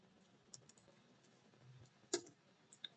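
Python code being typed on a computer keyboard, a quiet sparse run of soft key clicks with one sharper louder tap partway through, heard close and without talk.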